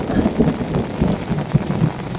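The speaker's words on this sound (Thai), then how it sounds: "ตอนนี้ฝนตกแล้วนะครับ ฝนตกเทลงมานะครับเทลงมา" Heavy rain pours down over a freshly planted village garden plot after a hot spell, a dense, steady roar with low rumbling swells running throughout and no voices.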